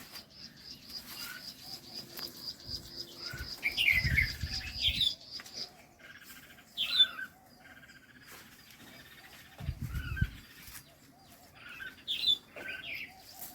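Agitated birds in a bitter gourd garden give repeated sharp, high chirps in scattered bursts, moderately close, with occasional low fluttering thumps like wing beats between the calls.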